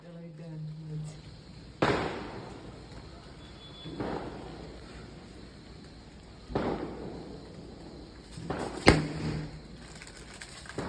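Several sharp firecracker blasts from Deepavali celebrations, including a large firecracker, go off at intervals, loud and booming with short decays, while people talk and shout in the background.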